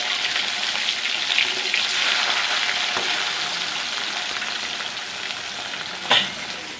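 Rohu fish sizzles in a wok in its own released oil, a steady loud frying hiss with a few clinks and stirring sounds.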